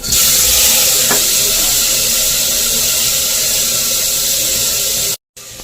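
Bottle gourd tipped into a hot pan with hing and green chillies, giving a loud, steady hissing sizzle that runs continuously before cutting off abruptly near the end.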